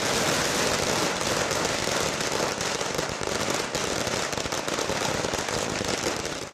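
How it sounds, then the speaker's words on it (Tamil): Firecrackers set off by DMDK party workers celebrating at the party office crackle in a dense, continuous stream of rapid pops, steady and fairly distant. "இதன்பின் தேமுதிக அலுவலகத்தில் தொண்டர்கள் பட்டாசு வெடித்தும் இனிப்புகள் வழங்கியும் கொண்டாடினர்."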